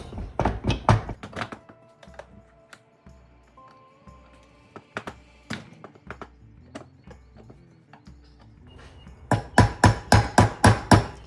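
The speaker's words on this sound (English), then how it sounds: "You don't want to bang on this too hard because it's just a sheet metal case or tank." Hammering on the sheet metal tank of a power steering pump from a 1966 vehicle during rebuild work: clusters of sharp metallic knocks at the start and a rapid series of about eight loud blows near the end, with quieter tapping between.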